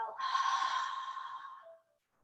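A long, deep breath let out slowly during a restorative yoga pose, one steady breathy exhale near and clear, trailing off into quiet.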